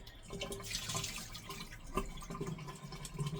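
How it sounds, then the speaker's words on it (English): Water running and splashing into a kitchen sink as it drains during home cooking of an Italian eggplant dish, a steady close wash with a few drips and clatters. "Okay, drain that water."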